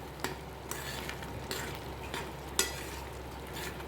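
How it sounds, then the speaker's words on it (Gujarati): Kathiyavadi bhakhari curry with sugar being stirred in a pan, a soft sizzling bed broken by a few light spoon taps and scrapes against the pan, quiet and close with no voices. "મિક્સ કરી લઈએ બધું."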